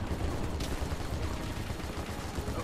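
Steady, distant-sounding gunfire rattles through a boss fight in Final Fantasy 7 Remake, a dense low roar of shots with one brighter burst early on, no clear talking over it.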